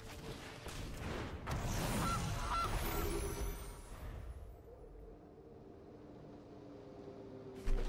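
Gilded Goose card in the Magic Arena digital card game letting out a loud cartoonish honk over busy game effects, which then fade into quieter background ambience.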